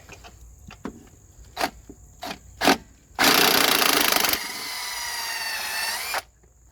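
Impact wrench or power drill zipping out 17mm bolts on a 1999 Honda Accord during engine and transmission removal, a few short taps then a loud sustained whir for over a second, followed by a steadier, slightly lower running whine before stopping.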